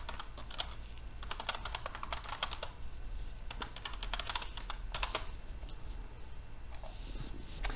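Quiet, close typing on a computer keyboard as a login username and password are entered, in short irregular bursts of key clicks over a faint steady background hum.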